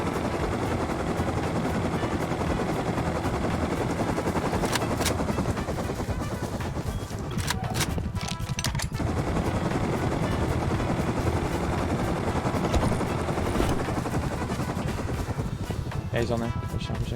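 Helicopter in the Rust survival game drones steadily through the whole stretch, with bursts of gunfire breaking in around the middle and toward the end while voices talk over it.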